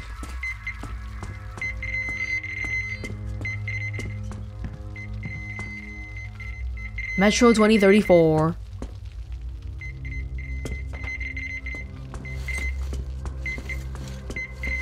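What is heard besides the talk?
constant beeping of resource detector in video game Metro Exodus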